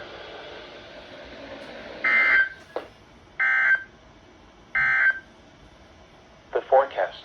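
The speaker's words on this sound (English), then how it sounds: "the National Weather Service has just activated the public warning alarm tone" Weekly test of a National Weather Service weather radio warning alarm: three loud steady electronic tone bursts about a second apart, broadcast over radio hiss, followed by a short garbled burst of sound.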